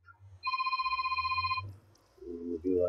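A forgotten cell phone rings with a fast, warbling electronic tone for about a second, close by, followed by a voice speaking.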